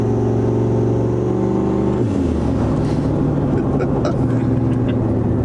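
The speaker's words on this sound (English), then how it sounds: "getting in throttle, getting the turbo spooled, and letting off and hearing that blow off" Turbocharged gasoline car running about 18 psi of boost, its engine revving hard as the turbo spools, then a sharp drop as the throttle lifts with a blow-off release, loud and close throughout with no talking.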